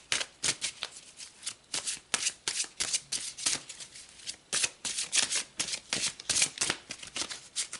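A deck of oracle cards is shuffled by hand in quick, repeated riffling bursts that sound close and crisp, with no talking.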